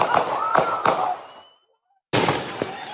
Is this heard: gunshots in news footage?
yes